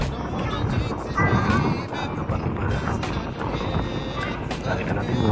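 A ferry ship pushing quickly across open water, with steady wind buffeting the deck and a continuous low engine and hull rumble, a person speaking over the noise.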